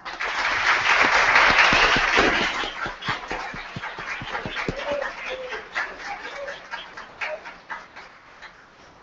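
Applause for a boy in a city council chamber in Formiga, loud at first and then thinning into scattered claps, with a faint voice or two underneath.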